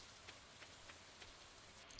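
Steady video-game rain from Stardew Valley falls softly and evenly, a faint continuous hiss with light periodic patters, no voices over it.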